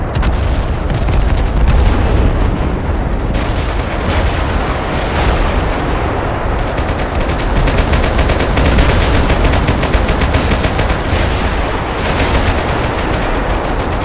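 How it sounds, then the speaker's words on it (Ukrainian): Artillery and gunfire in the video game Total Conflict: Resistance, with an M109 in play, as a dense, loud, continuous barrage of shots and booms that rolls on without pause. "До речі, це арта у Паша, я так розумію."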